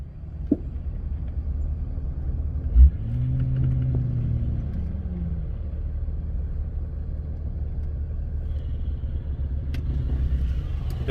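Motorcycle engine on an outdoor trail, a low steady rumble throughout with a rising rev in the middle, moderately distant.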